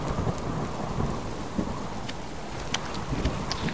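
Steady rain pours down in the survival game Subsistence, with rolling thunder rumbling through the wash and occasional sharper crackles, loud and continuous with no talking.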